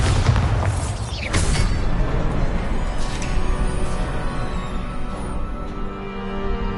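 A Bombarda blasting spell goes off in the video game Hogwarts Legacy: a loud booming burst at the start, then a sustained heavy rumble and crackling debris for several seconds.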